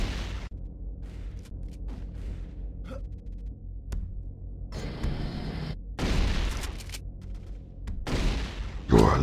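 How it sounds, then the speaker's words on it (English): Shotgun blasts in a first-person video game on a portal race map, several loud booming shots with bursts of broadband noise spaced a few seconds apart over a steady game background. "Shotgun."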